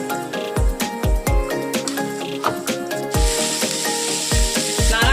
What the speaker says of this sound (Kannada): ಟೊಮೊಟೊ 2, 8ರಿಂದ 10 ಬ್ಯಾಡಗಿ ಮೆಣಸಿನಕಾಯಿ. 4ರಿಂದ 6 ನಿಮಿಷ ಚೆನ್ನಾಗಿ ಫ್ರೈ ಮಾಡಬೇಕು.